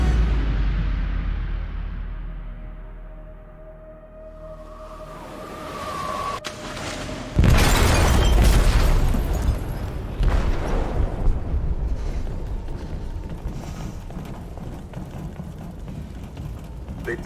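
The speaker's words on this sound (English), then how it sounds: "They detonated an explosive in the hold. The ship is sinking, sir." An explosive detonates in a ship's hold in Detroit: Become Human, a sudden heavy boom bursting out of low rumble and running footsteps, followed by a long roaring, crackling rumble that slowly thins out.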